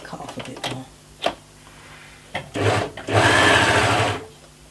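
An overlocker sewing machine stitches fabric in short bursts, a few quick clattering starts and then a sustained loud whirring run lasting about a second, close by.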